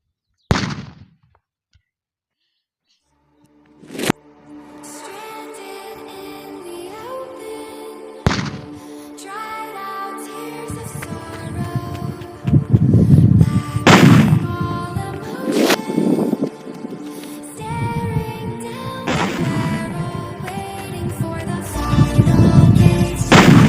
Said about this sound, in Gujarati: આપણે બોમ્બ આની ઉપર લગાડીએ અને પછી આપણે આને ફોડીએ.